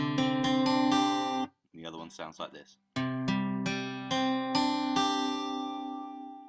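Guitar chords strummed in quick, bright strokes, ringing out, with a brief pause where someone speaks before the strumming resumes.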